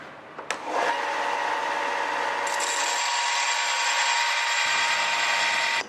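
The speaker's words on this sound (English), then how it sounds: "So now I'll just take it over to the belt sander and finish it off until I get the two angles to meet nicely" A belt sander grinds a metal part for a Bearhawk experimental airplane fuselage, a steady loud abrasive whine with a bright high edge that builds after a short start and runs continuously.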